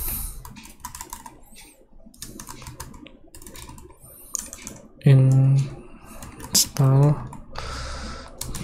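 Clicky keystrokes tapped out on a computer keyboard while entering a command, scattered quick taps with a few louder voice bursts later.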